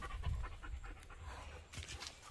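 A young Hallikar bull calf about two and a half months old, with quick, soft, steady rhythmic panting close to the microphone over a low rumbling background, faint throughout and without speech.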